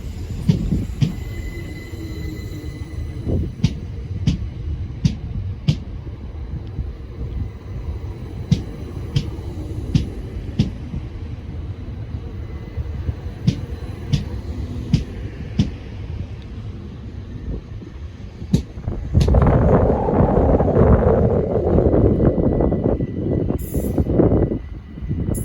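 A Class 377 passenger train passes through Denmark Hill station in south London as a steady rumble with regular wheel clicks over the rail joints, then swells into a louder, closer rush in the final seconds.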